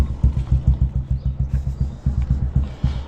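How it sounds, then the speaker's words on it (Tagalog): A motorcycle engine warms up at idle, a loud, close, steady chugging with a regular pulsing rhythm throughout and no voices. "painitan na natin yung makina ni Mia nang makalabas na tayo."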